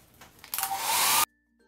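A hair dryer blows over painted MDF wood slats, switching on with a rising whoosh, running loud and close for under a second, then cutting off abruptly.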